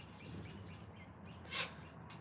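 Australian sulphur-crested cockatoos calling near a bird feeder, with faint scattered chirps and squeaks and one louder screech near the end, over a steady outdoor background.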